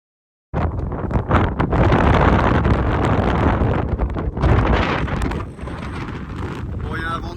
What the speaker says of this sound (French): il y a un vent de dingue, j'espère que vous l'entendez